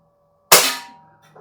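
Sharp CO2-powered crack of a Gamo P-430 pistol firing a BB, a single loud shot with a short decaying tail, heard alone.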